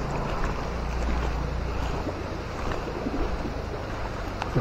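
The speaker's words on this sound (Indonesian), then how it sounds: "Nah, ini ada sungai di sini." A river flowing near a roadside parking spot at a Balinese holy spring site, a steady, moderately loud rushing wash of water with no talk over it.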